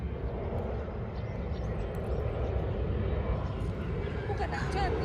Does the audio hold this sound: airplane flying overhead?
yes